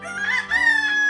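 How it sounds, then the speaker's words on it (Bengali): A rooster crows once, a short, close, ringing call standing alone without any talk. "উষাকালে মোরগ ডাকে"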